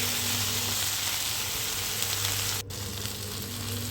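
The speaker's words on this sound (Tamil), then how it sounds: "கேரட் போட்டு நல்லா வதக்கிப்போம்" Carrots and red capsicum sautéing in a pan, a constant close hiss of frying with a low hum underneath and a brief dropout partway through.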